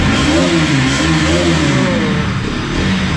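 A 2023 NS200 motorcycle engine revs loudly up and down in close range, its pitch rising and falling in repeated surges.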